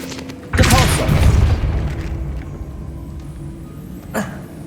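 A Depulso force spell cast in Hogwarts Legacy lands as a sudden booming thud, followed by a decaying rumble and a smaller burst near the end.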